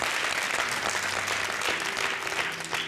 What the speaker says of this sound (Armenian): Ծափահարենք նրան։